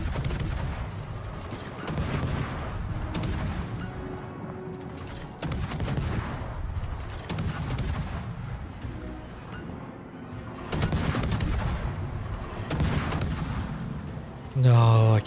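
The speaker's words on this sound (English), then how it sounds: "AA fire finally" Rapid anti-aircraft gunfire in World of Warships crackles in dense, continuous bursts of overlapping shots with sharp peaks, running throughout and mixed with battle noise and talk.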